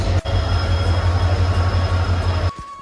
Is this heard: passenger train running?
yes